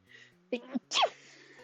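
A single close sneeze with a quick breathy intake before the sharp burst, over a soft background hum.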